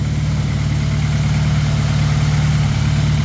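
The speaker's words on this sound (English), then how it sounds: "JDM F23A, still running smooth" A JDM Honda F23A VTEC engine, swapped into a Honda, idles steadily and loudly up close, giving a smooth, even low rumble throughout with no voices.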